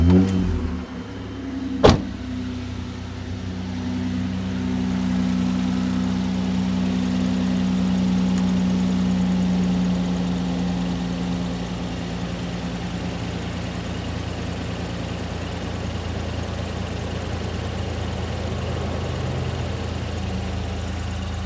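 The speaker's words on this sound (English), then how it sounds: "start the car." A car engine fires up with a brief sharp catch, then settles into a steady, fairly loud idle hum that continues unchanged to the end, with no voices.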